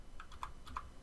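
Keys tapped on a computer keyboard while searching in Gaea terrain software, a few quick clicks alone in a short burst.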